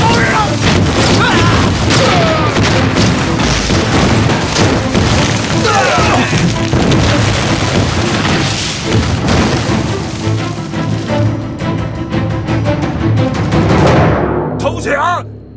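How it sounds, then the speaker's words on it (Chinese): Cannons fire in a battle scene from an anti-Japanese war film, with heavy booming blasts and crashing impacts in a dense, loud, continuous barrage while voices shout beneath. "大哥，开炮！"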